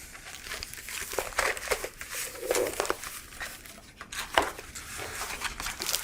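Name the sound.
opening the packaging of a DeckTutor Four 2.0 deck box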